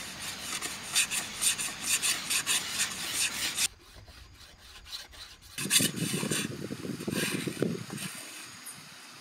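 Bamboo rubbed hard against bamboo to make a friction fire outdoors, a fast rhythmic rasping scrape in repeated bursts, pausing briefly midway before resuming with deeper, coarser strokes.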